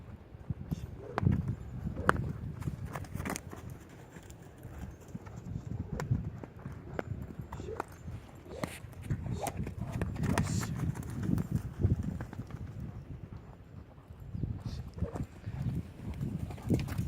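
A horse being worked at a lope, its hooves beating in a steady rolling rhythm on the ground, moderately close, with some talk faintly underneath.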